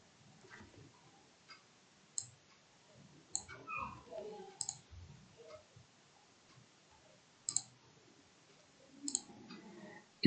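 Sharp computer mouse clicks, including quick double clicks, come in scattered pairs and singles at a desk while working in Excel, over a quiet background with soft faint rustle.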